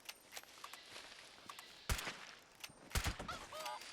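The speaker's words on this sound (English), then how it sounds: "Oh, I hear another chicken around somewheres." Chicken clucks in the video game Fallout 76, several short, sharp calls scattered across the moment alongside soft footstep-like thumps, fairly faint and with no talking.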